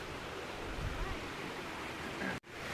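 Mountain stream rushing along a rocky bed at Núi Dài, a steady, close, broadband wash of flowing water that cuts off sharply for an instant near the end.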